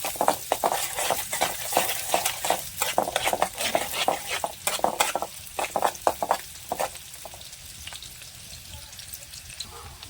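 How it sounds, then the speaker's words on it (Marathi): Chopped onion and tomato sauté in a pan on a village wood-fired chulha for dhangar-style dry chicken, with a continuous sizzle under rapid, rhythmic stirring scrapes and clinks of the spatula. "कांदा आणि टोमॅटो एकदाच मी कापून ठेवलं हे बघा चांगली परतून घेऊ"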